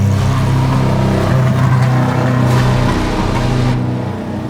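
Race cars roar past at Road America, a loud, steady engine drone that holds strong and then begins to fade near the end, with no one speaking.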